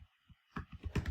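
Keys clack on a computer keyboard in a quick burst of close, soft clicks, with a brief pause before a denser flurry of keystrokes.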